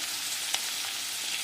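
Chopped big onion, garlic and two green chillies fry in hot oil for a brinjal kadaiyal, giving a steady broadband sizzle with a brief clink of stirring partway through, close and alone.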